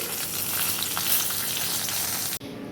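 Crushed green cardamom, cloves and cinnamon with dried red chilli sizzle and crackle steadily in hot oil for a Bengali katla fish kalia, a dense close frying hiss that cuts off abruptly near the end.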